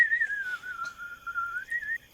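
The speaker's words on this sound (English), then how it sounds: "I keep whistling." A person whistling a single sustained, wavering tone that drifts slightly in pitch, close and clear, alone for about two seconds.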